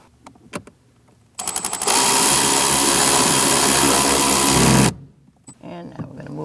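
A power ratchet tightens a bolt on the HVAC blend door actuator of a 2012-2020 Chevrolet Sonic: a few stuttering clicks, then a loud steady whir of about three seconds that cuts off abruptly, with faint handling noise before and after.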